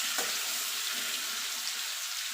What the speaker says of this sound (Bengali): পনিরটা আমি একটু লাল লাল করে ভেজে নেব।